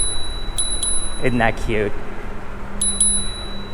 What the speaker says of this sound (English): We're gonna use the bell.